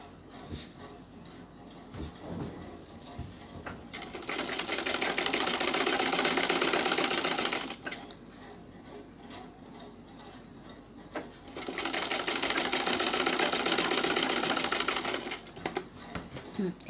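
A sewing machine stitches lace onto a gown in two steady runs of rapid, even whirring, with brief pauses and quieter handling sounds between bursts.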